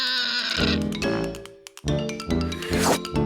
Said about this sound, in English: There's a pig inside.